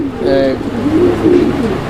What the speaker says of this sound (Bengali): এখানে আরও এক জোড়া কবুতর আছে